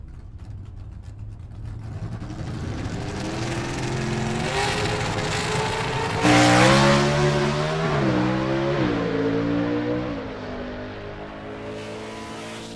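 A mechanically fuel-injected B/Gas gasser drag race car at a Southeast Gassers Association event roars loudly and close. Its engine drones, climbs in a harsh rising rev midway, then holds and eases off, with no talk over it.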